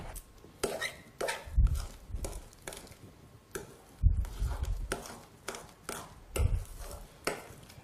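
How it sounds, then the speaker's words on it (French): A large spoon working through a thick homemade shower gel mixture in a bowl, giving repeated close knocks and scraping strokes in an uneven rhythm, each stroke with a soft thud. "On va prendre la grande cuillère pour pouvoir faire un mélange bien homogène."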